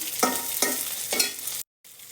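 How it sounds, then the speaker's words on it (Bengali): Shing fish (stinging catfish) lightly frying in a hot pan, a steady close sizzle with three quick stirring scrapes, then a brief cut to silence before the sizzle resumes. "প্রথমে আমি শিং মাছ এই যে হালকা করে ভেজে নিচ্ছি"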